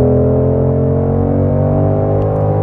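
Engine noise from a Ford Shelby GT500 on the road, a loud, steady, deep drone with a low rumble that holds constant throughout, no one speaking.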